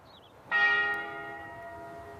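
A single church bell in a small Swiss Alpine village strikes once and rings out, its resonant tone slowly fading, heard from a distance over quiet background.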